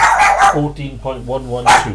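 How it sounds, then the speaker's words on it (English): A dog named Lady barks in short, sharp yips at the start and end, fairly loud nearby, while someone speaks over and between the barks. "Sorry about the dog."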